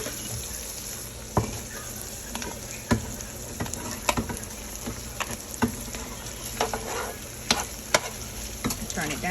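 Rice and eggs stir-fried on a hibachi-style home cooktop, a steady close sizzle broken by regular sharp scrapes and taps of a spatula against the pan, with no talking.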